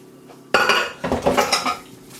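A utensil scrapes custard tart pastry mix from a mixing bowl in quick clattering strokes, with metal knocking and scraping against the bowl in several close, loud bursts after a quiet start.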